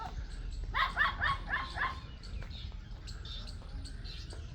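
Small dog barking repeatedly on a village morning, a quick burst of four or five sharp yaps followed by fainter scattered barks, moderately close over low background rumble with birds faintly present.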